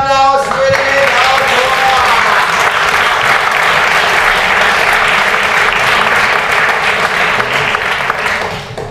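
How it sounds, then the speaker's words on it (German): Loud, sustained audience applause fills a bar poetry slam after scores are announced, dense clapping from a crowd; a brief voice and tones are audible at the very start. "Applaus für den."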